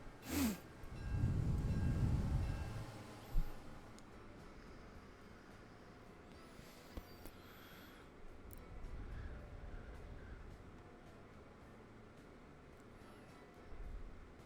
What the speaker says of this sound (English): we got the birth of our super trains